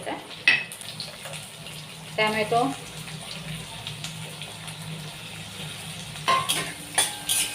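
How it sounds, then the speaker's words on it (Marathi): Onion frying in oil in a pan until browned for a spiced okra curry, giving a low, steady sizzle with scattered stirring clinks and short scrapes, loudest near the start and again toward the end. "कांदा ब्राऊन होतोपर्यंत तेलामध्ये परतून घ्यायचा आहे"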